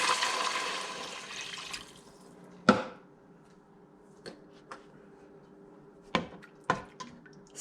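A rush of water pours into a hot pan of frying sardines with a hissing splash that fades, followed by scattered clinks and taps.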